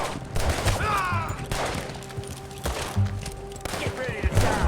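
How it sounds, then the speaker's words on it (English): Gunshots in Red Dead Redemption 2, a string of loud cracking reports spaced through the clip over game ambience, with brief voices mixed in. "Shoot that bastard already."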